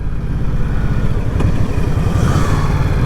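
An Indian Scout Bobber motorcycle ridden on a hot, humid road near Tampa, Florida, gives a steady, loud engine drone at cruising speed, with wind rush and no talk.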